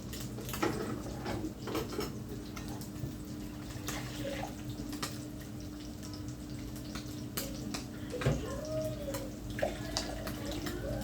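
Water pours steadily into a pan of curd curry in a home kitchen, with a low hum and occasional clinks of utensils against the pan. No one speaks.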